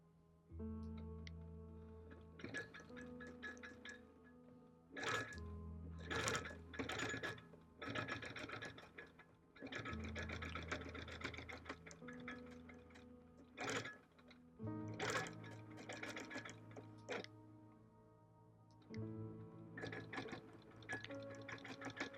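Longarm quilting machine with a stitch regulator set to 12 stitches per inch, stitching in the ditch with a square ruler on a bird panel quilt; a steady mechanical whir runs in bursts of varying length, starting and stopping repeatedly.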